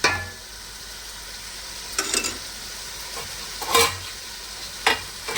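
Ground onion, cumin and ginger paste sizzles in hot oil as a tempering for sambar, a steady frying hiss with occasional sharp stirring scrapes and spatters.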